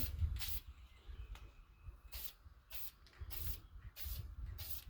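Several short, sharp bursts of an aerosol spray paint can hiss in a loose rhythm while painting a Mossberg Maverick 88 shotgun earth brown, close and fairly quiet, with brief pauses between.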